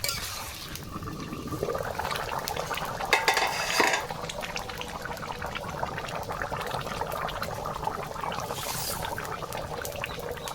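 Potatoes going into a pan and being stir-fried with chicken, with a spoon clattering and scraping against the metal over a soft frying hiss and one brief louder rustling burst.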